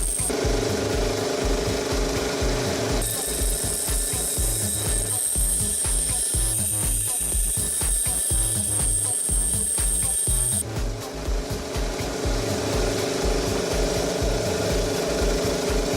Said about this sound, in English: Using the grinding machine, I round off the workpiece.